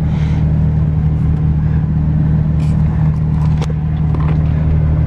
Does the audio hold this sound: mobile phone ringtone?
no